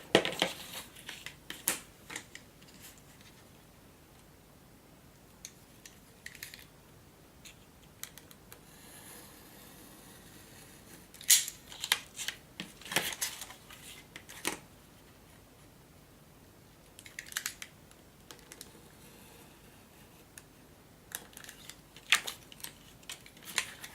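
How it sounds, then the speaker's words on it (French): Scissors cut a piece of paper for a handmade mini album, giving quiet, scattered snips and crisp rustling clicks in short clusters against a hushed room, with no talking. "Et on va venir couper ce morceau-là uniquement."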